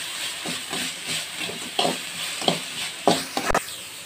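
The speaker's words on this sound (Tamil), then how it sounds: "சேர்த்து நல்லா ஃப்ரை பண்ணிக்கோங்க." Onions and mint frying in a pan with salt for spicy pidi kozhukattai, a soft hiss broken by several sharper scrapes and stirring clatters, fairly close; no talking.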